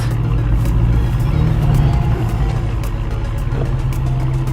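A supercar with its roof open drives along, its engine giving a loud, steady low rumble close by that swells slightly and then settles.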